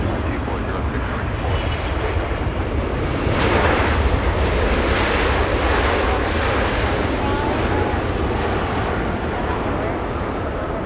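A Cathay Pacific Boeing 777 airliner at Los Angeles International Airport roars with loud, continuous broadband jet noise that swells slightly midway. Faint voices sit under it.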